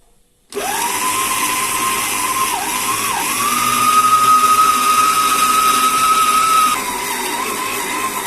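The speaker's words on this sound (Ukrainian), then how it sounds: "Фарш у нас прохолодний і починаємо вимішувати" A mixing machine kneading chilled minced meat for dry-cured Banderivska sausage starts abruptly and runs as a loud steady motor whine, pitch dipping briefly under load before easing off near the end, close, with no talking.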